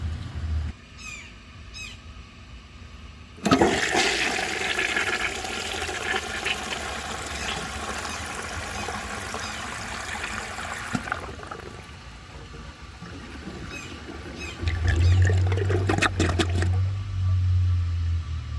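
A 1950s Kohler Trent toilet flushes with a loud rush of water that churns steadily for several seconds, then drains off and refills with gurgling, close by and with no talk.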